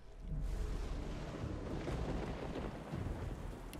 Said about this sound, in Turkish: Yağmur yağdıracağım.